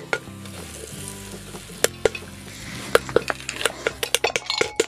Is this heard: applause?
no